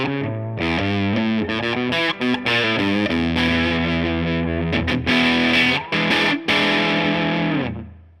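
Distorted electric guitar through a Tonex Boogie California Tweed 6V6 tone model, played as loud, continuous chords and riffs with a gritty, saturated edge, sustained alone before trailing off at the end.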